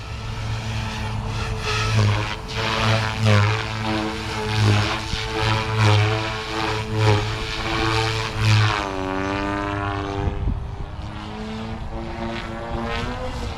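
An OMP Hobby M4 RC helicopter rotor whines and buzzes loudly and close on the bench, its head speed climbing so the pitch rises steadily and holds, with a brief dip near the end.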